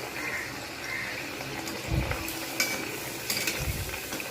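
Potato puri sizzling in hot oil, a soft continuous bubbling fry with a few light stirring and utensil clinks close by.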